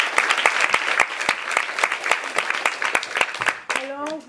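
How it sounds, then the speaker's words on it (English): Steady applause rises from the audience for the panelists at a women-in-research panel discussion, with crisp individual claps running throughout, and a voice begins speaking right as it ends. "I would like to give an applause to them"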